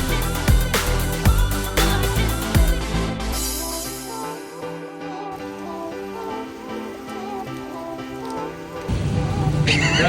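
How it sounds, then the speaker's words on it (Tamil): Heavy rain falls in Bangkok near Khaosan Road with a dense, steady hiss of downpour, loud and continuous, with some brief sharper knocks early on. "செம்ம மழை கைஸ்"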